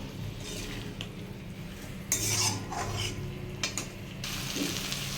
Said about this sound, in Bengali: ক্যাপসিকাম অ্যাড করে আমি একটু নাড়িয়ে নেব